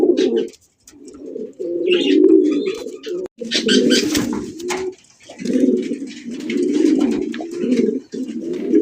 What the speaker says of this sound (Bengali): হোয়াইট গ্রিজেল রেসার কবুতর ডাক দেখেন